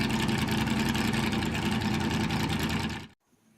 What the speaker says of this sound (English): that soundbite is actually from Travis's car that he will be running Saturday at Lawrenceburg Speedway